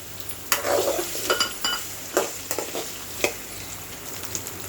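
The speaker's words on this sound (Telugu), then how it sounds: "ఉల్లిపాయ ముక్కలు వేగాక కట్ చేసి పెట్టుకున్న అరటికాయ ముక్కలు" Raw banana pieces fry with onion and green chilli in a pan, a soft steady sizzle punctuated by sharp spatula scrapes and metallic clinks at irregular intervals, close up and with no talking.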